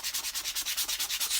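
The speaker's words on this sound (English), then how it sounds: "I'm hoping you can still hear me as I'm sanding frantically." Painted edges are sanded back by hand for a vintage look, a rapid rhythmic scratching of about ten quick strokes per second, close and fairly soft with no voices.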